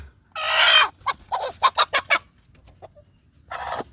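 A free-range village hen about to brood or lay gives a drawn-out squawk and then a quick run of clucks, close by, with another squawk at the end.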